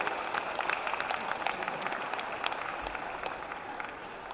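An audience at the World Pasty Championships applauds, steady dense clapping from a crowd at moderate distance that runs the whole time, with no talk over it.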